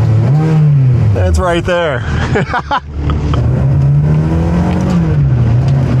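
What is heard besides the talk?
Ferrari engine revving in neutral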